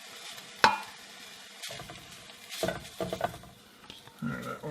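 Egg noodles frying in butter in a pan for a Hungarian cottage cheese pasta, giving soft crackling sizzle with scattered stirring scrapes and utensil clinks, close and fairly quiet.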